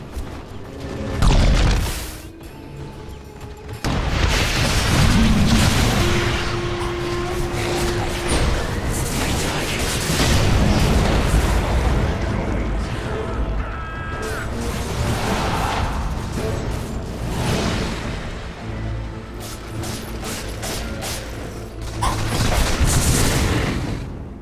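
Dota 2 battle at a tower under attack: dense, continuous clashing, impacts and explosive booms from game combat, loud and busy throughout.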